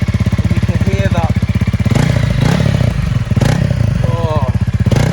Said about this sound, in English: Let's start it up. It's got a nice little pop to it. It does sound very much like an off-road motorbike